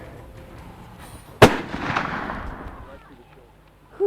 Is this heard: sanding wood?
no